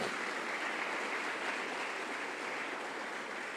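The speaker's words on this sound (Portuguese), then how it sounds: "Dá um aplauso bem forte para Jesus." A church congregation applauding, dense steady clapping from a large crowd that fills the whole stretch at an even level.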